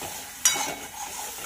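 Spice paste with turmeric powder and salt fries in a pan, a sharp clatter at the start followed by a gentle, even sizzle with faint stirring, close and without talking.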